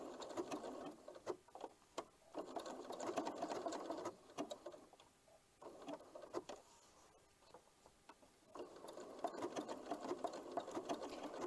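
Domestic sewing machine stitching a narrowed zigzag blanket stitch around tulip appliqué on a scrappy springtime quilt, running in bursts of rapid steady whirring with brief pauses between stretches of sewing.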